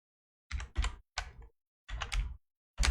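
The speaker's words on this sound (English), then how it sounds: "Let's type it first." Computer keyboard typing in five short clustered bursts of rapid key clicks separated by brief silent pauses, close and moderately loud, with no voices.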